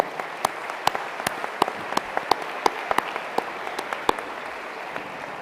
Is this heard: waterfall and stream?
no